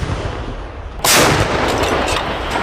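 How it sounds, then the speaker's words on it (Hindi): A Russian D-30 howitzer fires a single sharp, loud boom over background noise, and the shot rolls into a lingering rumble afterward. "रूसी तोपखाने के D-30 होवित्जर से यूक्रेन के सैन्य ठिकानों को धुआं कर दिया।"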